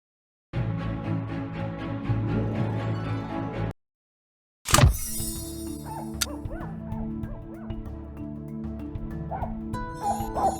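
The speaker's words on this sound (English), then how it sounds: "The barking is coming from behind this door." Small Pomeranian barking and yipping repeatedly behind a door in a Nancy Drew video game, slightly muffled, then a sharp thud after a brief silence, with whimpers and yips continuing over low background music.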